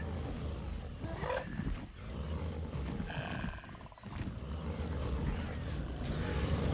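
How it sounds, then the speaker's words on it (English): Raptors roar faintly in a dinosaur survival video game during an outdoor fight, with a couple of growling roars over a constant rumbling game ambience. "I hear the raptors though."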